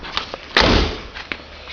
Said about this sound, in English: let me close this driver's door